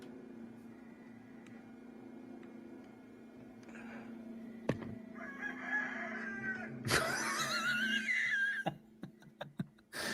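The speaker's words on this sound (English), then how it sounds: "Is that a still picture with them playing music, with them playing chicken noises?" Chicken clucks and a rooster crowing play from a recording laid over music, starting faint and growing louder, with a burst of crowing near the end.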